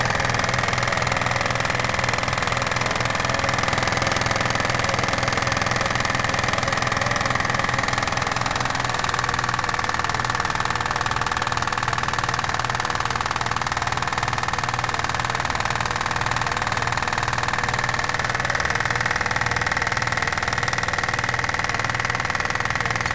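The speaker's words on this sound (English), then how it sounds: "It's not a bad little engine." A small Jensen 85 steam engine runs steadily with a rhythmic mechanical chugging and a humming drone, leaking some steam, close and fairly loud throughout.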